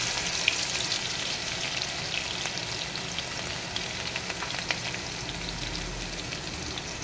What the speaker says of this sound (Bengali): রসুনটা যখন একটু করে লাল করে ভাজা হয়ে যাবে,